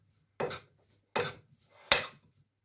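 Chopped onion, cubed boiled potato and coriander being mixed in a bowl for a chaat, heard as three short, evenly spaced scraping clinks of a spoon against the bowl with quiet gaps between.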